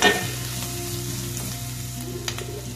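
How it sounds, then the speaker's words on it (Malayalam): A large onion sizzles steadily as it sautés in a hot pan of oil, a continuous close frying hiss with a few faint clinks of stirring and no talking. "അത്യാവശ്യം വലിപ്പമുള്ള ഒരു സവാള ഇട്ടിട്ട് നല്ലോണം വഴറ്റി കൊടുക്കാട്ടോ."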